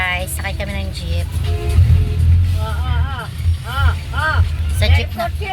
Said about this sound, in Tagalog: Yan guys, sakay kami ng jeep.